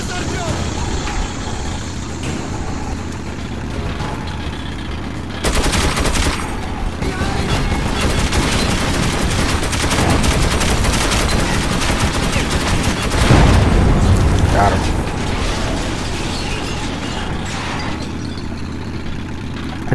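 Gunfire in Metro 2033 Redux: continuous close automatic fire in dense rattling bursts, with heavier blasts and a deep thump partway through, and a player's voice talking now and then.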